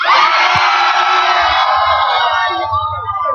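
A massive outdoor crowd at a Valentine's Day event cheers and screams loudly and continuously, a dense wall of voices that dominates throughout, with faint low thumps underneath.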